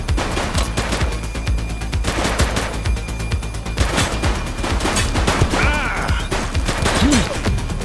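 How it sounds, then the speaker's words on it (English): Rapid, dense gunfire in The Precinct police shooter video game, bursts of automatic shots and impacts running continuously and loud, with brief shouted voices mixed in. "He's shooting!"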